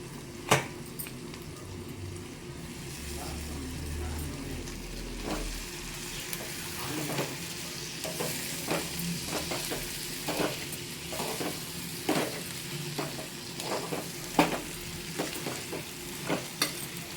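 Avaram flowers stir-fried in a pan for a thokku, a soft steady sizzle under repeated sharp spatula scrapes and clacks against the pan, fairly quiet and close.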